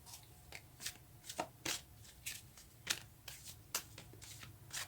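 A deck of Wisdom of the Oracle cards being shuffled by hand, close up: repeated soft riffling and slapping bursts at a quick, uneven rhythm, each card flutter crisp and airy.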